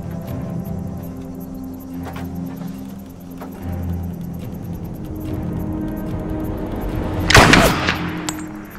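A single sharp gunshot rings out near the end, loud and close, after several seconds of low rumbling ambience.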